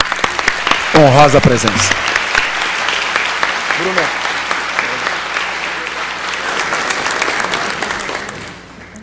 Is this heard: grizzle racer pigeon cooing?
no